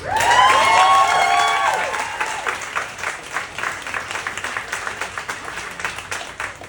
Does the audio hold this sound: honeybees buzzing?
no